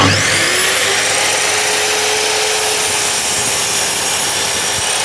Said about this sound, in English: then we just put this piece in snug against your stop, and then we cut